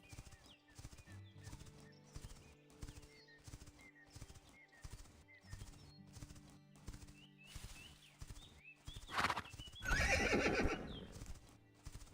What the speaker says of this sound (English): I dislike the horse jump sound.